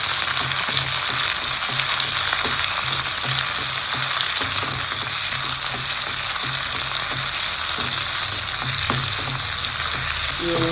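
Sliced onions sauté with curry leaves in a pan for pithla, a dense, loud steady sizzle with faint stirring clicks, no voices.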